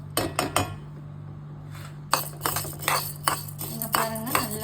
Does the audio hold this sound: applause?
no